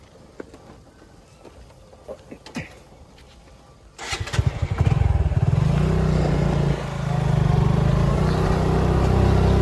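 A motorcycle ridden in gear on a road near a rubber garden in Madhabpur, Bangladesh, roars up suddenly after a few quiet clicks, then holds a loud, close, steady engine drone with a brief dip midway.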